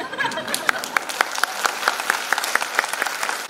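An audience claps through a meeting of the Sikkim Krantikari Morcha party at Namcheybong. The applause is steady and close, with sharp individual claps standing out from the crowd at a fairly even rhythm.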